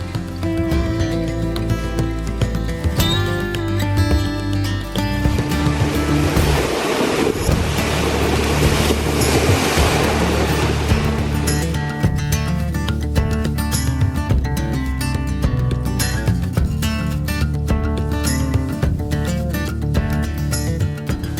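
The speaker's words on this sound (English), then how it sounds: "It was cold and windy, and the lake sure was a little bit angry." Wind-driven waves on a Michigan lake pound the shore on a cold, snowy day. A steady, loud roar of surf mixes with wind buffeting the microphone, and one stronger surge swells midway.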